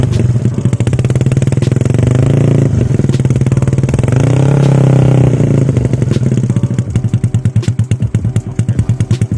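A Yamaha Mio motorcycle with a carburetor and 155 cc bore-up engine idles loudly close by, then revs up twice with rising pitch before settling back into a lumpy, pulsing idle.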